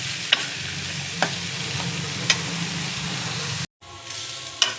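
Vegetables, including beets, fry in oil with green chili and cumin, a continuous close sizzle punctuated by sharp spatula clicks against the pan, briefly cut off near the end before resuming, with no talking.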